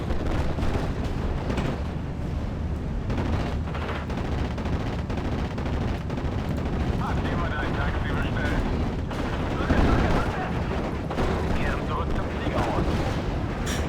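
A video game battle with bomber aircraft attacking infantry, dense with continuous gunfire, artillery booms and explosions layered close and loud, a heavier blast near the end, while someone talks over the chaos.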